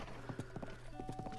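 Horse hooves clip-clop in Zelda: Breath of the Wild, a quiet, irregular series of about eight close hoof knocks over a faint background hum.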